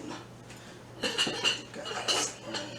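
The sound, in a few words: spoon picked up among plates and cutlery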